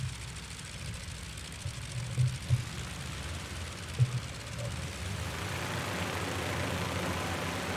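Idling radial engines of a Fokker F VII airliner in Flight Simulator 2020, a steady low rumble with a few brief louder pops, heard from outside the aircraft without speech.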